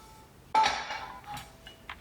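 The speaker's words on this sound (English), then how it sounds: "Open the lid" A heavy cast iron pot lid lifts off with a sharp metallic clank and ringing scrape, followed by a few softer clinks of metal and cookware in a quiet kitchen.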